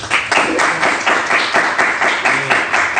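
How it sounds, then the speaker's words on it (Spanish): Audience applause at a mathematics colloquium, a steady dense patter of many hands clapping throughout, fairly loud and close with no talk over it. "un fuerte aplauso a Juan Pablo"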